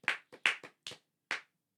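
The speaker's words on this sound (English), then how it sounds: "That's just like applause" A handful of separate, sharp hand claps ring out close by, irregularly spaced with short silences between them, more like a few scattered claps than full applause.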